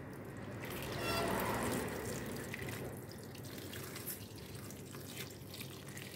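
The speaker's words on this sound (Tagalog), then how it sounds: "Lagyan natin ng tubig." Tap water runs into a dough mixture for ube pandesal, a close steady splashing stream that swells early and then settles into trickling and dripping, with light kitchen handling noises.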